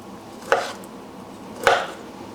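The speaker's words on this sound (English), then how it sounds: "chop your lechon or your roast pork into about bite-sized pieces" A knife chops roast pork lechon into bite-sized pieces: two crisp, close chops against a board, about a second apart, with quiet pauses between.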